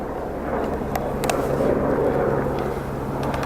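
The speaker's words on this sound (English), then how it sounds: "Don't see very many helicopters around here." A helicopter passes over a quiet spot near cottonwood trees, its steady low rumble filling the air from start to finish at a moderate distance, with no one speaking.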